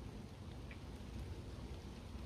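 Light drizzle falls over misty mountains as a soft, steady, faint hiss with no other clear sounds.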